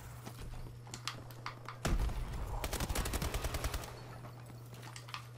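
Rapid automatic gunfire in Call of Duty: Advanced Warfare, a short burst of fast, evenly spaced shots over a steady low hum, with a few isolated shots before and after.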